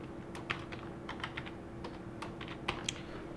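Rapid, irregular keystrokes on a computer keyboard while entering a name for a new task list, light clicks close by and fairly quiet, with no voices.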